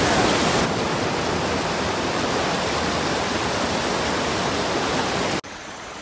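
Rapids on Big Lost Creek rush as a dense, steady broadband roar of whitewater close by, cutting off abruptly near the end to a quieter flow.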